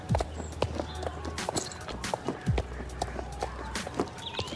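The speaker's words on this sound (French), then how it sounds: "On va passer au trot." An Andalusian horse trots in the video game Star Stable, its hooves clip-clopping in a quick, even rhythm at moderate distance, with soft ambient game sounds around them and no talking over the steps.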